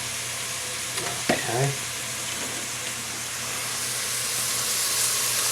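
Onions sauté in a pan for butternut squash beef stew, hissing with a steady, soft sizzle throughout as a voice briefly speaks near the start.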